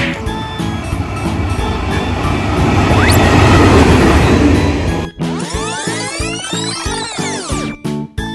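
A train roars past up close at Ban Koh station, rising to a loud rush, then wheels clack rhythmically over rail joints with screeching metallic squeals.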